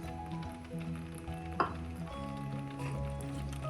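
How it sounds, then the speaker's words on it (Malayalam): Cleaned prawns drop into a hot pan for a chilli prawn curry, setting off a steady close sizzle with a brief sharp clatter as they land, then an even frying hiss with faint background music. "ക്ലീനാക്കി വെച്ചിരിക്കുന്ന ചെമ്മീൻ ചേർക്കാം."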